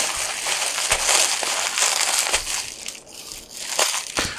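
Cardboard shipping packaging for a used Nvidia A2000 graphics card being opened and crumpled, loud close crinkling and crushing in repeated bursts with sharp tearing spikes and no talk.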